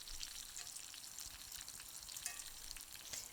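Bacon sizzles and spits steadily in a hot cast iron pot, a continuous bright crackle of frying fat with small pops, close and even throughout with no talking.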